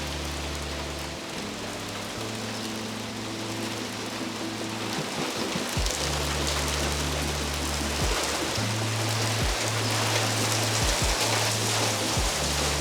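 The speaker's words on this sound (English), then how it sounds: "It's raining while the sun is out." Steady rain pattering on surfaces, a continuous hiss with a low hum underneath, no talking.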